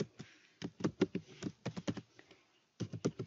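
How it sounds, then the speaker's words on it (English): Fingers type an email address on a computer keyboard, a quick uneven run of soft close key taps with one short pause before a final flurry. "type in your mail address,"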